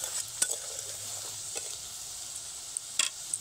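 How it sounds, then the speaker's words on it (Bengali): Chicken stirred with chicken curry masala in a pan makes a faint, even sizzle, broken by occasional light clicks and taps of the spoon. "সমস্ত কিছু একসঙ্গে 1 মিনিট মতো নেড়ে নেব"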